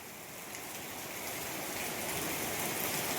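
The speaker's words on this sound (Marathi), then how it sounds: "पाऊस जोरदार चालू झालाय बघा" Steady, dense hiss of heavy rain pouring down, continuous and fairly loud throughout with no other sounds standing out.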